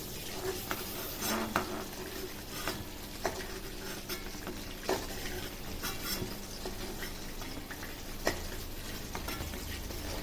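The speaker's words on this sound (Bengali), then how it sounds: "প্রথমে সয়াবিন অয়েলে লবণ হলুদ মাখানো পটলটা ভেজে তুলে নেব" Pointed gourd coated in salt and turmeric fries in soybean oil with a quiet, steady sizzle, broken by scattered clinks and scrapes of a utensil against the pan; no one speaks.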